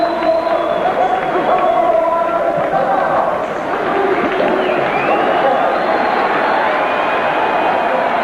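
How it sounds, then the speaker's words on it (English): A boxing arena crowd roars steadily in a loud, dense wall of cheering and chatter as the fighter Pernell Whitaker is introduced at his pro debut, with the noise holding up across the whole stretch. "Crowd cheering the introduction of Pernell Pete Whitaker."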